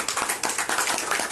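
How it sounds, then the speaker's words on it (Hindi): A short burst of audience clapping at the launch of a cricket academy, the claps coming in quick, fairly even pulses at close range without any talk. "प्लीज तालियों के साथ इसको आप लोग"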